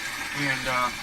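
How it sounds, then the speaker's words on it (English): Water flows and gurgles through a culvert tunnel in a steady, close wash that swells slightly midway, with a brief spoken word over it. "That sound is so nice, listening to the water."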